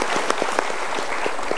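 Members of an Indonesian television talk show audience clap in a short, loose burst, with a few distinct louder claps standing out from a softer patter over under two seconds.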